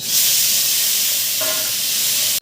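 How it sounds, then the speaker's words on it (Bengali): Prawns coated in salt and turmeric fry in hot oil with a loud, continuous hissing sizzle up close, broken by a brief clink of a utensil, then cut off sharply. "চিংড়ি মাছটা এবার ভালো করে ভেজে নেব।"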